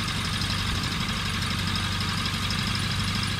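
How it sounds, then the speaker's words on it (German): A light ultralight aircraft engine runs steadily at a low idle during a check of its two independent ignition circuits, a continuous rumbling drone with slight vibration and no speech. "Der Motor hat 2 voneinander unabhängige Zündkreise,"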